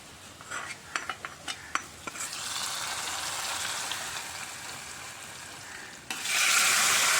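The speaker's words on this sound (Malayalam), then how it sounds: "അപ്പോൾ ഉള്ളി നന്നായി മൂത്തിട്ടുണ്ട് നമുക്കിത് നമ്മുടെ കുമ്പളങ്ങ കൂട്ടാനിലേക്ക് ഒഴിച്ചു കൊടുക്കാം" Fried onion tempering poured into an ash gourd masala curry: a few utensil clinks, then a sustained sizzle that swells into a loud, bright hiss at the end, with no voices.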